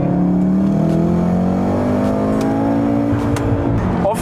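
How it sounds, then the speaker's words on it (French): Volkswagen Golf R accelerating hard in second gear using the manual paddles, engine note climbing steadily and loudly from inside the car, with a few clicks near the end. "Là, j'accélère, elle va whipter."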